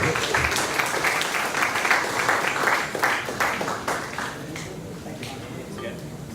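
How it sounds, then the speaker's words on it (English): People at a React developer meetup give scattered, moderate applause for a speaker, with individual claps standing out before it tapers off into quiet room noise. "Round of applause for Mayor."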